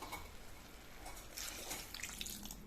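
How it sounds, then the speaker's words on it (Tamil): Water runs steadily into a cooking pot of potato kurma, a soft continuous splashing with a few brighter bursts partway through, fairly quiet and without any voices. "இப்போ இதுக்கு தேவையான அளவு தண்ணி ஆட் பண்ணிக்கலாம்"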